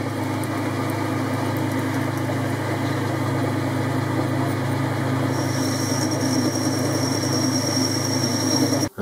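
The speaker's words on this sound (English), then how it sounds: "All I'm going to do now is put the chamfer on the end" A metal lathe turning an ER20 collet holder while a chamfer is cut on the end, giving a steady, continuous machine hum and whir throughout before stopping abruptly at the very end.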